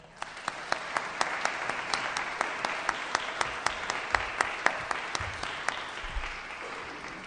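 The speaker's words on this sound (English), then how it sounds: "Please give them a round of applause." A live audience applauds panelists at the close of a talk, steady crowd clapping filling the room throughout, with a few sharper, closer claps standing out at a regular pace.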